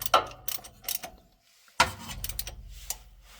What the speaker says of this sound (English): Tighten both of these bolts with the ratchet again.